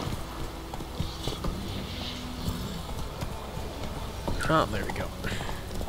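Hooves of Roach, Geralt's horse in The Witcher 3: The Wild Hunt, clip-clopping steadily under ambient game sound, with someone speaking briefly over it near the end.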